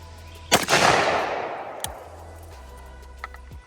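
A single loud, sharp AK rifle shot with a long decaying echo rolling out across an open range, followed by a couple of fainter metallic clicks and handling noises.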